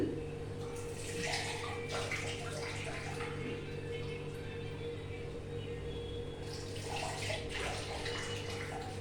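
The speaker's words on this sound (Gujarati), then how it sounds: "આમાં થોડું પાણી નાખું છું." Water is poured into a cooking pot for spaghetti on a gas stove, a steady splashing gush lasting several seconds with slight surges, heard close over a low constant hum.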